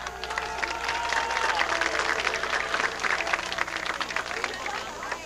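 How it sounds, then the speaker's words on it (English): Outdoor crowd applauds the 1994 homecoming queen nominees as they leave a football field, a steady wash of clapping with some cheering and crowd babble running continuously throughout. "Let's give all of these fine young ladies another nice round of applause as they exit the field"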